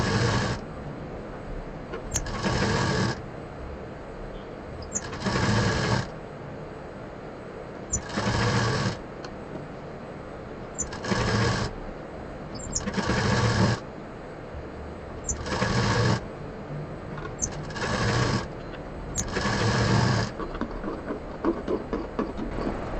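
A sewing machine stitches triangular scrap fabric pieces together. Its fast mechanical whirring comes in repeated bursts of roughly a second or two, separated by brief pauses, and is close and steady.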